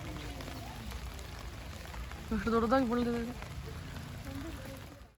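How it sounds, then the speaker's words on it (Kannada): Heavy rain pours steadily over a botanical garden in Ooty, a continuous broadband hiss of drops on leaves and ground while a voice speaks briefly in the middle. "ಫುಲ್ ಜೋರು ಮಳೆ ಇದೆ ಇವಾಗ"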